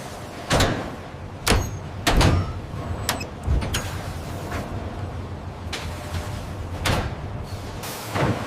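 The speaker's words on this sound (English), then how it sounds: "Noted. Bay door closing." A transport bay door closing in a leather tanning factory, with several sharp thuds and clanks spaced across a few seconds over a steady low mechanical hum.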